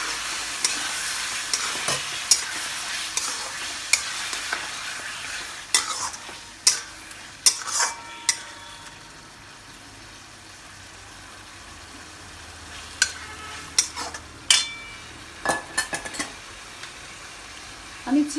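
Marinated chicken and fried potatoes sizzle steadily in a pan for a Bengali chicken curry, with sharp clinks and scrapes of a utensil stirring at irregular intervals; no voices.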